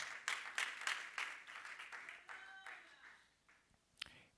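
A church congregation claps along for the Lord in a quick, steady rhythm, the clapping moderately close and fading near the end, with a voice and a brief tone over it.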